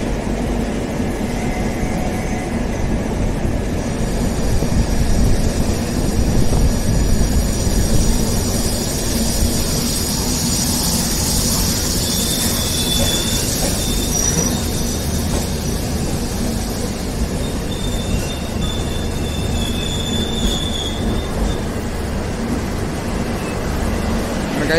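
Mumbai–Gandhinagar Shatabdi Express train departing a station, a loud continuous rumble of wheels and carriages with faint high squeals, heard up close for the whole stretch.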